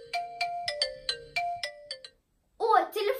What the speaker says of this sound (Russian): О, телефон звонит.